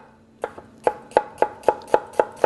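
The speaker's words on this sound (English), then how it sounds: "I'm going to slice some shallots very, very fine" Kitchen knife slicing fresh shallots very finely on a cutting board, with steady close, crisp chops at an even quick rhythm, about eight strokes in a row and no talking.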